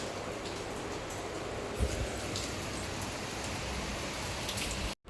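Heavy rain falls steadily and loudly, a dense continuous hiss with scattered drips and a brief thump, cutting off abruptly at the end.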